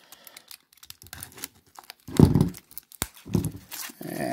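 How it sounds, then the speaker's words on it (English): A 1970s–early 80s Donruss non-sports fun pack is torn open by hand, with a soft crinkle of wrapper building into louder, close ripping and crackling bursts that come in several short pulls. "going to open the 70s, early 80s, Donruss non-sports fun pack"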